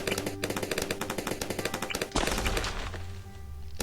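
Dartling Gunner tower firing in Bloons TD 6, a rapid, steady machine-gun rattle of closely spaced shots for about two seconds, then a denser burst of game effects that trails off.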